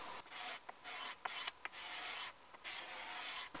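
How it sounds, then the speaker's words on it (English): A carbide scraper is drawn across plywood cabinet sides in a few quick strokes, a close, dry raspy scraping with short gaps between passes. "So I'll give the plywood sides a quick scrape."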